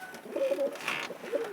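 Soft pigeon coos, a few low burbling calls close by, the last one trailing off, over a faint steady background hum.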